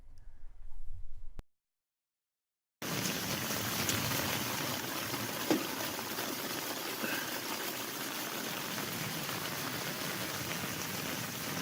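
Rain pours steadily over a yard while water rushes out of a DIY French drain outlet by a patio, a dense continuous wash of splashing and flow after a brief quieter start and a short gap.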